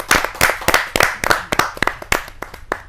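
Applause from an audience welcoming a poet at a Hindi kavi sammelan: a few seconds of hand clapping with sharp, fairly irregular claps that sound like a modest crowd, close and moderately loud.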